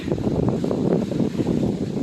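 Gusty wind buffets the microphone in the North Woods in uneven rumbling bursts, steady and close, with no voices.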